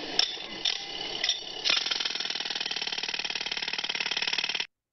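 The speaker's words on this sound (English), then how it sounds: "So that sounds like a jackhammer." A jackhammer on a work site, recorded by a Svantek noise dosimeter: a few separate knocks, then a steady, rapid, loud hammering burst lasting several seconds before it cuts off abruptly.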